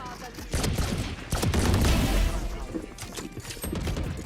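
Pistol gunfire in a competitive shooter video game, a few sharp reports and broadband bursts over a busy in-game background, with players talking over it.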